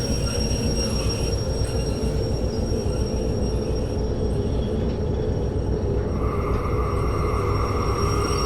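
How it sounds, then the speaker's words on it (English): Train rolling along the rails in the VR railway game Derail Valley, a steady loud rumble of wheels and wagons with a high metallic squeal running throughout, no talk. "Oh, this has to be our train."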